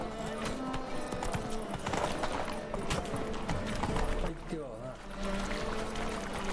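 Roach the horse gallops in The Witcher 3 with a steady, close clip-clop of hooves, game music and effects running underneath and brief talk over it.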